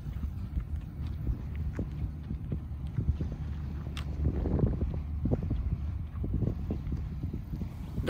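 A combine harvester cutting and threshing rice in a Japanese paddy field gives a steady low mechanical rumble with irregular clattering knocks and some wind noise, heard at moderate distance without talk.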